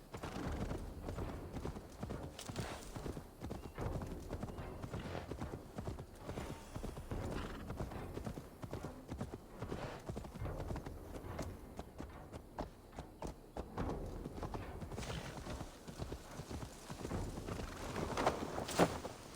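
Horse hooves clip-clopping steadily in a video game, a continuous close rhythmic patter with an occasional whinny, running for the whole stretch with no talk.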